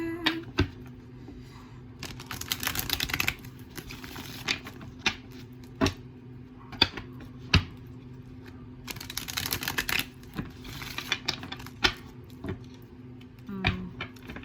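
Tarot cards riffle and snap in repeated quick bursts, with soft taps in between, close up against a low steady hum.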